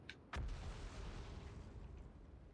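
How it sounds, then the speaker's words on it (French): A small explosion in the Outer Wilds space game: one sharp burst cracks out early, then a brief low rumble fades into a steady low hum, with no talk over it. "c'est une petite explosion de rien du tout."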